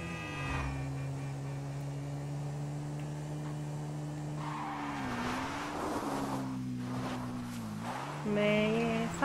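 Engine drone of a motorbike in GTA V that rises and dips as it runs off the road, with a brief squeal-like burst near the end; steady, close and fairly loud throughout.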